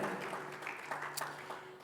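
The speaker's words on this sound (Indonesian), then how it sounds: "Mari berikan tepuk tangan." A church congregation at a Sunday worship service gives a short burst of applause, a rustling patter of many hands, fairly quiet and distant, with a faint steady tone beneath it.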